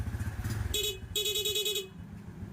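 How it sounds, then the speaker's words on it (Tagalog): Two short blasts of a Honda Dash motorcycle's stock horn, a brief honk then a longer one, loud and close over a low idling engine rumble. "Tapos yung stock horn."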